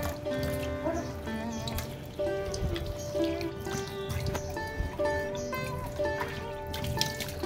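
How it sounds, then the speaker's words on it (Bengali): Water runs and trickles steadily while a kitchen sink basin and tiles are cleaned, with splashes and clinks of handling through the moderate, continuous flow; no one speaks. "এবার ভালো করে বেসিনটা, টাইলসগুলো এগুলো একটু পরিষ্কার করে নেব"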